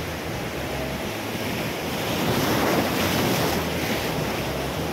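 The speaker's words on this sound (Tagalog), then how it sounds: "Lalaki ng alon." Large ocean waves surge and crash against rocks by a roadside shore, a continuous loud wash swelling toward the middle, mixed with wind buffeting the microphone.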